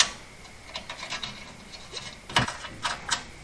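Ratchet or wrench clicking and scraping in short, quiet bursts while bolts are tightened on a Chevy Nova subframe, with one sharper metallic knock near the middle.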